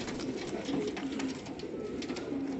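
English Saddle fancy pigeons coo softly in a loft, low repeated throaty calls in a steady murmur with faint background rustle and no talking.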